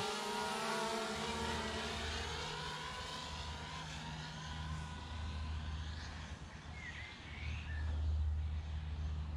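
A DJI Mavic Pro and a Mavic Air on DJI propellers race in sport mode, their rotors making a steady, loud, buzzing whine over a rushing outdoor roar that swells near the end.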